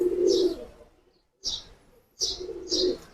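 A Sabz Cheeny pigeon coos in several short bursts, close and clear, with brief pauses between calls.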